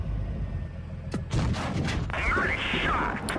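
A Grille 15 tank destroyer's gun fires in WOT Blitz with a single sharp boom near the middle, followed by a rolling tail and game effects over steady battle ambience, with a voice talking.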